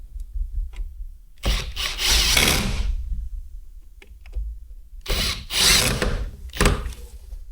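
A screw being driven into a Razor scooter during motor removal, two bursts of whirring power-driver noise, each with brief stops and restarts, separated by quiet handling sounds.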